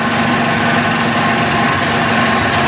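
A rebuilt 250 Trail Blazer engine runs steadily right after a choke start, a loud, close, constant buzzing drone with a steady hum that holds without pause throughout.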